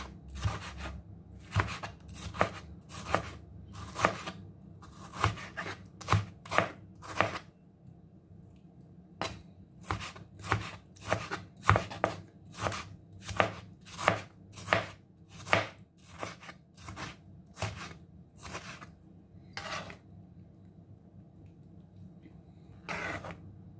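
A knife chops two tomatoes on a board, close up. Crisp, rhythmic strokes come in quick runs, pause briefly, then resume in another steady series.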